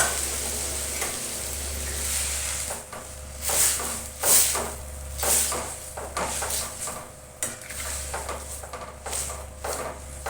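Hot water hits a sizzling pan while cooking matimah dal pakori, giving a continuous hiss that swells into several louder bursts of spluttering, with low background hum and no talk.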